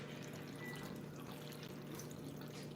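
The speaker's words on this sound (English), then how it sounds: "and add some water." Water poured into a pot of green beans with onion and garlic on a stove, a continuous faint splashing pour over a low steady hum.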